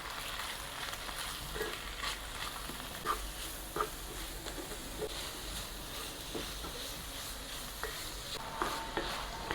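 Ground beef seasoned with salt, pepper, paprika, chili, cumin and sugar fries over softened onion and garlic in a single pan, sizzling steadily while a spoon scrapes and stirs in irregular clicks.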